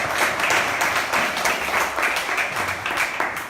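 Congregation in a church applauding steadily, a dense, sustained wash of many hands clapping close and loud throughout, with no talk over it.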